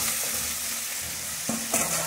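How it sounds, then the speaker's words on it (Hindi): Potatoes stirred and frying in a cooked onion-tomato masala for aloo matar dum, a steady close sizzle with scraping stir strokes and a couple of sharper clatters near the end, no talking. "आलू मैंने डाल दिए हैं, तो मैं इन्हें 2 से 3 मिनट तक मसाले में पकाऊंगी"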